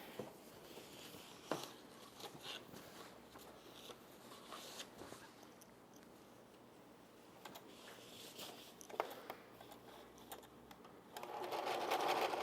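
A sewing machine stitches the second side of an apron, a faint steady patter of needle strokes with some light handling noises and a louder burst near the end.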